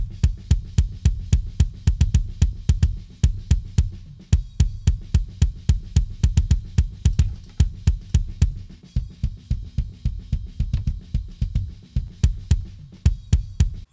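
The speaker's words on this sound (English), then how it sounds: "Altogether, the kick drum sounds like this." A mixed kick drum layered from several samples, including a GGD Modern and Massive sample, pounds in rapid double-kick patterns for a heavy metal cover, dense, deep and loud throughout with no voices.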